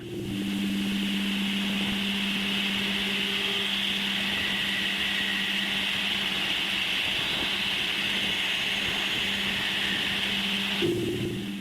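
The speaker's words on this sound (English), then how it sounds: "And this is the music of the Uranian magnetosphere." Radio emissions from the magnetosphere of Uranus, recorded in space, form a continuous, eerie droning hiss with a high whistling band and a low steady hum, unchanging and alone until a brief shift at the very end.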